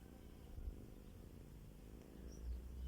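A cat lying close beside the listener purrs softly, a quiet, continuous low rumbling with a gentle pulsing rhythm and no talk.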